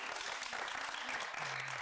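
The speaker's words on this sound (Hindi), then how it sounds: "तो मेरे लिए तालियां।" Audience clapping on an entertainment show, a brief, fairly quiet burst of applause with faint voices and a short tonal sound near the end.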